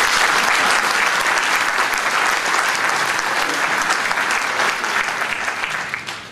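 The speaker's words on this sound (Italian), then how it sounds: "Un applauso anche a lui." Steady, dense applause from a large audience at a municipal gathering in Imperia, loud and sustained for several seconds before easing slightly at the end, with no voices over it.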